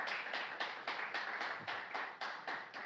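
Rhythmic group clapping at a church service in a steady beat, about four claps per second, somewhat distant and fairly quiet, with no voices over it.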